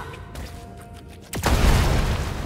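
A bomb goes off in a video game: a sudden loud blast about a second into the clip, with a heavy, rumbling tail that stays loud to the end. Quieter ambient game tones come before it.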